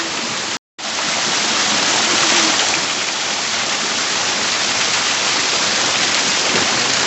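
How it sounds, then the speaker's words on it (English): A waterfall roars in a steady, loud, close wash of falling water that runs without a break apart from one short cut near the start. "You want to get under that waterfall, don't you?"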